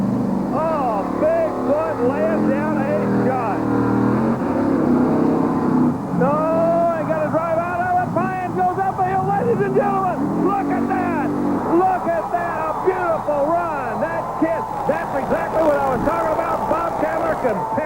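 The Bigfoot monster truck roars around an arena track, its engine droning and rising and falling in pitch with no break, while an announcer talks excitedly over the top.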